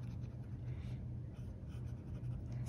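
A fountain pen with an extra fine nib scratches steadily across paper, a soft, faint and continuous writing sound recorded up close with no talking.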